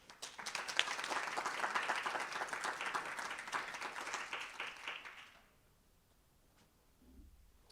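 An audience applauds for roughly five seconds to welcome author Thomas Ricks, a dense, full round of clapping that then fades to near quiet, with a faint low rumble at the end.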